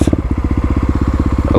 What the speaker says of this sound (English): Blipping the throttle seems